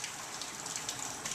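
Warm summer rain falling steadily, a soft continuous hiss of drops, faint and even throughout.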